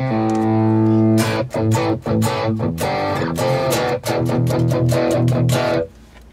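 A heavily distorted electric guitar plays a loud chord followed by a fast, choppy riff, then cuts off abruptly.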